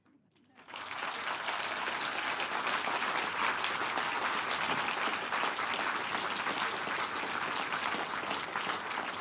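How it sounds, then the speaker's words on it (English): An audience at the 2025 Dublin Literary Award ceremony breaks into loud, dense applause within the first second and keeps clapping steadily and evenly to the end. "I would ask you once again to please give an enormous round of applause to the 2025 Dublin Literary Award winner, Michael Crummy."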